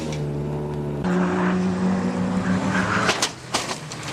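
A Toyota Supra at a drift event, heard as a loud sustained engine note that cuts off abruptly, followed by scattered knocks and bumps.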